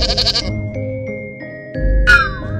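A goat bleats in a wavering, sustained call against a quiet background, with a sharper bright cry near the end and no talking.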